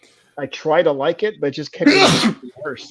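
A single sharp sneeze bursts out loud and close in the middle of continuous conversational speech, which carries on around it.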